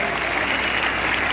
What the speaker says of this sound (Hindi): मैं जोरदार ताली चाहूंगा रविंदर भाई के लिए